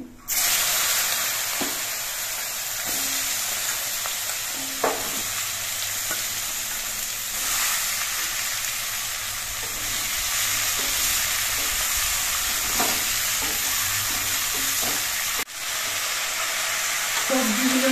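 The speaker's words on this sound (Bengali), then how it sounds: "কালো জিরেটা একটু ভাজা হয়ে যাওয়ার পর এর মধ্যে সবজিগুলো দিয়ে দিচ্ছি" Steady sizzling of vegetables frying in hot oil with black cumin, with occasional scrapes and clinks of stirring throughout, close and continuous.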